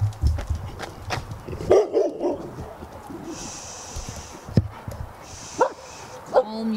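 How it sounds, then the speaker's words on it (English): Several dogs bark in short bursts out on a street, with some barks sounding close and others further off, as a person talks over them. "Oh my gosh, there's dogs."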